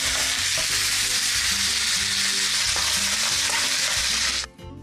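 Onion and chicken legs fry in plenty of olive oil in a pot, a loud continuous sizzle with occasional stirring scrapes that stops suddenly at the end.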